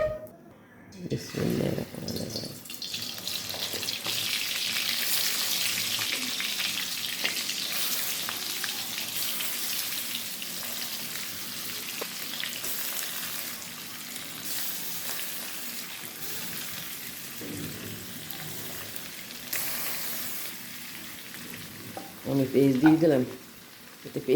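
Prawn heads fry in oil with spices, a continuous close sizzle running throughout, with a few louder clattering bursts near the start and again near the end.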